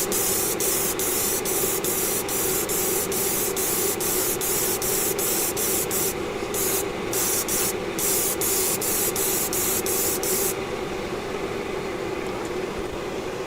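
An airbrush sprays yacht varnish in a continuous close, loud hiss that lasts throughout, with a faint rapid ticking pulse over most of it that stops near the end.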